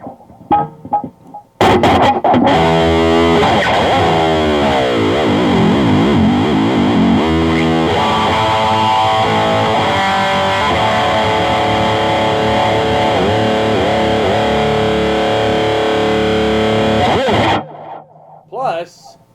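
An Ibanez RG electric guitar played through its single-coil pickup with distortion, a loud, continuous run of driven strummed chords and riffs lasting about sixteen seconds, bracketed by brief talking at either end.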